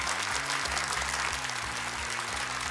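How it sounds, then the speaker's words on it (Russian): A studio audience on a Russian game show applauds with dense, steady clapping throughout, over a low musical drone. "Замечательно, аплодисменты."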